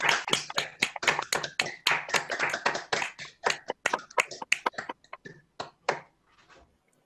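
Graduates at a virtual graduation clap over a video call, producing many sharp, separate hand claps that start dense and gradually thin out to a few scattered ones.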